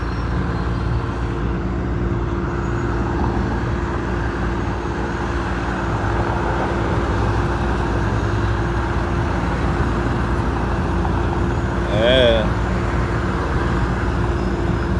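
Street traffic at a Canadian intersection near a bus terminus: a continuous loud roadway rumble of cars and heavy vehicles passing close by, with a brief squeal or air-brake hiss near the end.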